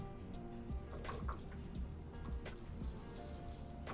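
91% isopropyl alcohol is poured into a bin in a long, steady stream, a soft continuous liquid trickle and splash with scattered drips, at close range.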